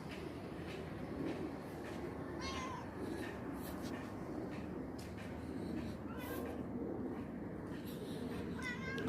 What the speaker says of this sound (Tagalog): Ito yung pusa ko makulit.